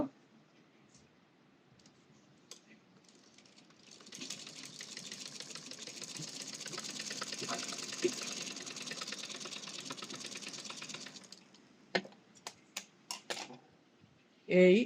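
A sewing machine runs steadily for several seconds stitching a folded dress neckline, a fast close mechanical whir, followed by a few sharp clicks as the fabric is handled.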